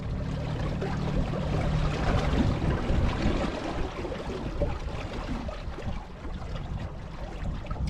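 A small electric outboard motor pushes a boat on Lake Bala, its steady whirring churned together with water rushing and splashing against the hull, continuous and fairly loud throughout with no voices.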